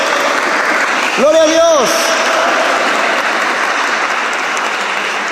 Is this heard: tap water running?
no